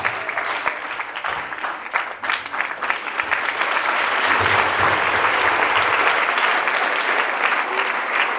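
An audience claps at a school award ceremony in Mohania, steady, dense applause that grows louder and fuller partway through and keeps going.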